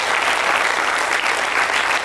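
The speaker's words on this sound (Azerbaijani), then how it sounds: "Bizə texniki heyətə, operatorlar bir alqışlar." Sustained applause from a studio audience at an Azerbaijani comedy show, honoring the technical crew and camera operators; dense, steady clapping fills the whole stretch without pause and with no voices on top.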